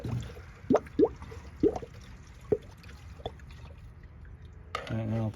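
Coolant glugs and drips in a few irregular splashes as it is poured into a 2006 Chevy Silverado 1500 WT with a 4.3 engine, faint and close, with a brief voice at the end.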